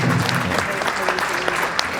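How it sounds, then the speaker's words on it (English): Applause for a small boy drummer, a brief burst of clapping with scattered sharp claps under a murmur of voices. "Give him a hand of applause"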